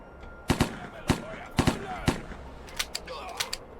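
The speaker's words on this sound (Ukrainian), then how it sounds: "Я тобі прям в голову стріляю, ти чо?" Gunfire in the video game Chronicles of Vipers rings out in several sharp shots, some in quick pairs, followed by fainter scattered shots, with a voice talking faintly underneath.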